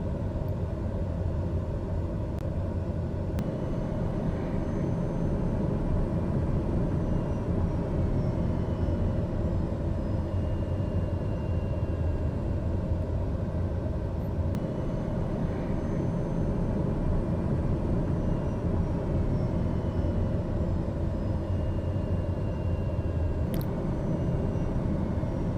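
A light aircraft taxiing at Kelowna airport runs its engine in a steady, continuous low drone with rumble, holding even loudness throughout with no talk over it.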